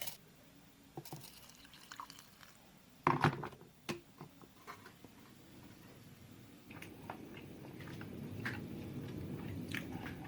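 Quiet, close bites and soft chewing of cold kimchi dumplings filled with kimchi and meat, with a sharper bite near the start and faint moist mastication sounds continuing throughout, no talking.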